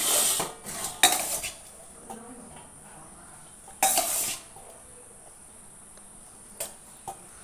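Cooked rice served onto a plate at home, with sparse metal clinks and scrapes of a utensil against dishes, a couple of louder knocks over a steady high insect-like hiss, no talking.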